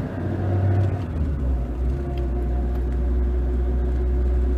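A 1979 Mitsubishi Colt 1400 GLX with an 8-speed gearbox, heard from inside as it drives: a steady low engine drone and road rumble holding throughout, close and fairly loud, with no talk.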